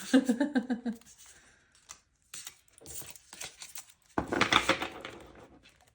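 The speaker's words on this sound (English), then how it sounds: "I'm sure I'll get better at shuffling it." A large deck of tarot cards is shuffled by hand, giving a loud, close burst of papery riffling and flapping near the end, with softer card handling and some talk earlier.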